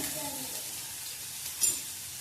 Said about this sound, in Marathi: यातच टोमॅटो टाकून भाजून घेऊया 1 मिनिट